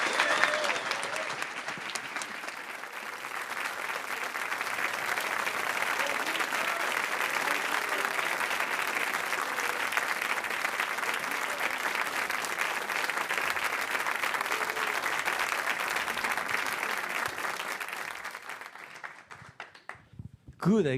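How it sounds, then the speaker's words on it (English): A large audience applauds steadily as chefs are welcomed onto a stage, with sustained, dense clapping that swells, holds for nearly twenty seconds and then fades out. "And now please welcome a big round of applause"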